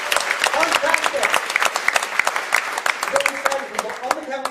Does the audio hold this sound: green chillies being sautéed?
no